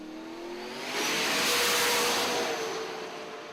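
A car engine revving hard as it passes: a rising, swelling roar that peaks in the middle and fades, broadband and loud, heard alone in an FPV multiplayer racing lobby.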